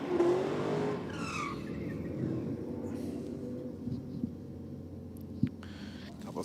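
A Commodore race car does a burnout at a drag strip, with a distant, fairly faint engine roar and tire squeal sustained throughout, along with a few sharp pops from the exhaust.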